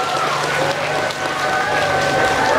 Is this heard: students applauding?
yes